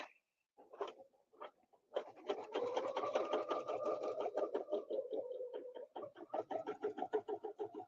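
A sewing machine stitching a quilt, running in quick rhythmic bursts with brief stops, close and fairly quiet, no voices.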